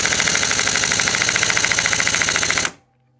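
A pneumatic impact wrench rattles hard and fast as it tightens the flywheel nut on a 50/80 cc scooter engine being converted to 125 cc, a loud close buzzing burst lasting under three seconds before stopping abruptly.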